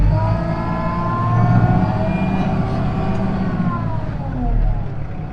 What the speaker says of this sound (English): hit my foot, and you're gonna hear the engine rev up